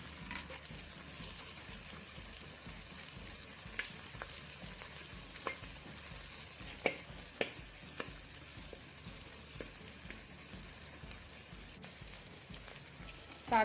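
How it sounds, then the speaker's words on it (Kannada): Green chili and ginger fry in hot coconut oil as a tempering for a Mangalorean mackerel fish masala. A steady, soft sizzle continues throughout, with occasional light stirring clicks. "ಈಗ ನೆಕ್ಸ್ಟ್ ನಾವು ಇದಕ್ಕೆ ಹಸಿಮೆಣಸು ಮತ್ತು ಶುಂಠಿ ಸೇರಿ ಸ್ವಲ್ಪ ಫ್ರೈ ಮಾಡಿಕೊಳ್ಳುವ ಒಗ್ಗರಣೆಯಲ್ಲಿ"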